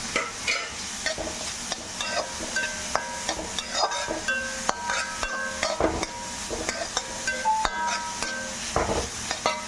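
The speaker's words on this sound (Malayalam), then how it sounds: "ചെറിയ കഷ്ണം ക്യാബേജ് ഗ്രൈൻഡ് ചെയ്തത് ചേർത്ത് വാട്ടാൻ പോകും" Grated potato and ground cabbage sautéing in a pan for a mixed vegetable dish, with steady sizzling under repeated clanking spoon strokes against the pan, loud and close.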